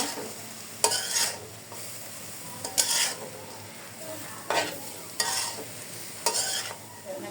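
Turmeric powder being stirred into bitter gourd frying in a pan, with five or six scraping spatula strokes spaced about a second apart over a steady sizzle, close and clear with no talking.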